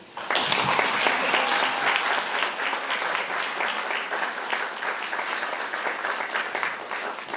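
Sustained applause from an audience at a Stockholm University academic event, honoring the sole organizer; dense, steady clapping fills the whole stretch at close range without voices.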